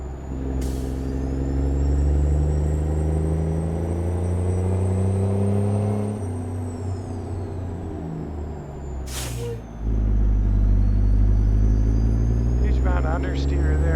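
Big rig trucks in American Truck Simulator, a Scania R and a Mack R on a race track, give a loud low engine drone that rises and falls, broken by two sharp air-brake hisses.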